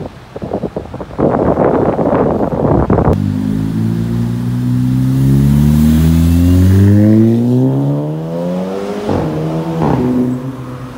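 A sports car engine revs hard and loud, pitch sweeping up and down in repeated surges, with wind buffeting the microphone.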